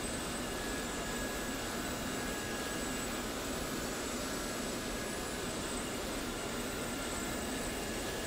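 A Gazelle helicopter flies over Normandy in a steady, dense roar of turbine and rotor noise with a faint high whine, constant and loud throughout.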